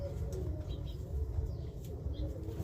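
Roller pigeons coo softly in a loft, with low throaty calls and faint wing rustles over a constant background murmur.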